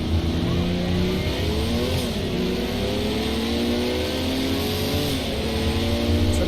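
A Porsche Group 5 race car in a racing video game roars at steady high revs, its engine tone rising and shifting through gears, loud and continuous throughout.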